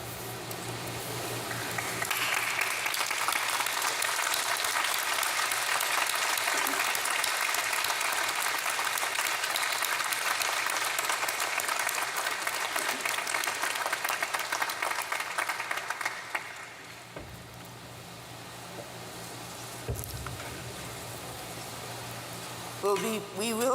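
Convocation audience at Grenfell Campus standing and applauding graduates' families, a long, dense round of clapping that fades into quieter scattered claps near the end.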